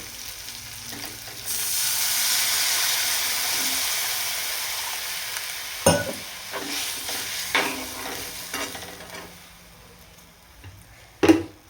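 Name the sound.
water added to potato curry simmering in pan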